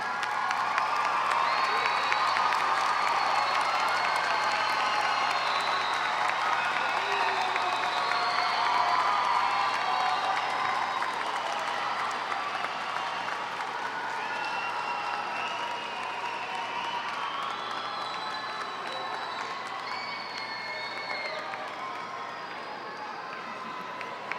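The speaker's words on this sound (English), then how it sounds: "Give them your applause, give them your appreciation" A large crowd of graduates and guests at a 2011 commencement ceremony applauds and cheers steadily, a dense, sustained wash of clapping with scattered shouts that holds throughout and eases slightly toward the end.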